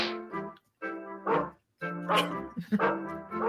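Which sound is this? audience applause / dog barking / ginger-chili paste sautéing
dog barking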